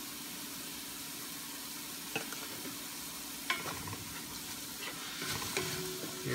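Dry bay leaves sizzle in a hot pan for pork hamonado, a steady soft frying hiss broken by a few scraping stirs and clinks of a utensil, close and unaccompanied by speech.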